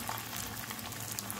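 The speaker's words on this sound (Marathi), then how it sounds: "तर याच्यामध्ये मी फ्राईज टाकून घेते." Potato fries bubble and sizzle in hot oil in a kadhai over medium gas, a steady, faint, hissing crackle with no voices.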